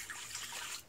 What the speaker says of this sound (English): Now I'm measuring out my water.